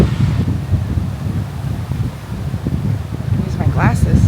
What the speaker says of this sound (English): Ooh, windy today.